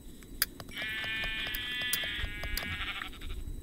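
Sheep in the Minecraft video game bleat in a long, wavering, nasal call that runs for about two seconds, with a few short clicks and soft background noise around it.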